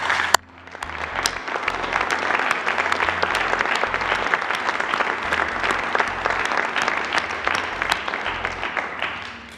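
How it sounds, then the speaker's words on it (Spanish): An audience bursts into loud, sustained applause for migrants at a presidential press conference in Mexico, with dense continuous clapping filling the room for nearly ten seconds. "Un aplauso para los migrantes."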